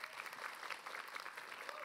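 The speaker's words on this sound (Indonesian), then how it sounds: "Ya boleh tepuk tangan yuk." A studio audience at an Islamic talk program claps briefly, a faint, even patter of applause heard from a distance.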